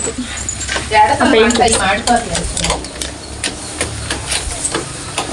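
Liver being stirred and fried for kebab in a village kitchen, a steady busy scraping and sizzling texture with clattering stirs, fairly loud and close throughout, with voices talking over it.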